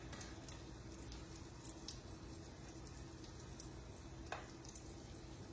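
A potato pancake frying in a pan, a faint, steady low sizzle close by with a few small crackles and one sharper pop, no voices.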